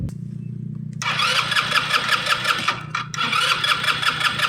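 Motorcycle engine with no fuel reaching the carburetor, starter cranking it steadily for several seconds after a low idle-like hum, with a brief pause before cranking resumes; loud and close, no talking.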